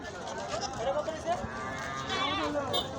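Cattle at a Qurbani livestock market in Sherpur, Bangladesh, with busy crowd noise and a low moo-like call rising over steady chatter, people talking throughout.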